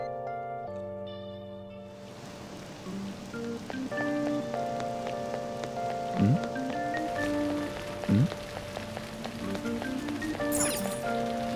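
Steady rain patters through the world of the game Persona 5, a soft hiss beneath a calm looping music track, continuous for several seconds with a few brief louder swells.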